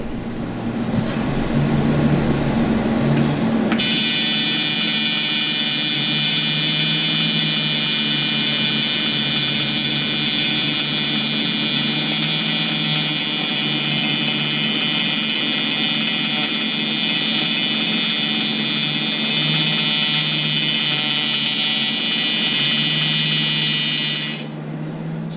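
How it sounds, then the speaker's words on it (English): A welder runs on a car part in a shop for about twenty seconds, a loud, steady buzzing crackle with a bright electrical tone that starts abruptly and cuts off near the end, over a constant background hum. "We'll weld this thing."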